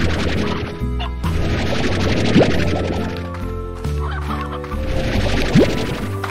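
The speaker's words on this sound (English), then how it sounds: "Elder hen!" An elder hen in the video game Slime Rancher clucks and gobbles repeatedly over steady game music, loud and close.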